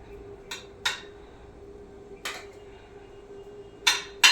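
Plates and metal utensils clink as hot home-cooked Sunday food, including fried fish, is served out: five sharp, separate clinks spaced irregularly over a quiet background, with no talk.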